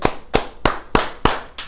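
Sharp, loud claps in a steady rhythm from a church congregation during a family service, about six crisp hits evenly spaced with no talking.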